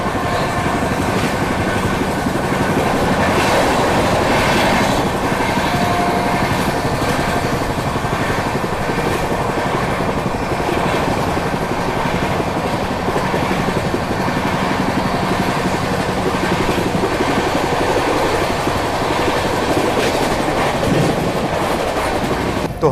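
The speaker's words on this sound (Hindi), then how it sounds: "जैसे ही अपना लंच करना शुरू किया था उसके बाद अपनी स्पीड देखो, क्या स्पीड में ट्रेन चलना शुरू हुई।" Mahanagri Express passenger train between Mumbai and Varanasi running at speed, a loud steady roar of wheels on rails with rhythmic clickety-clack and carriage rattle heard from inside, continuous throughout.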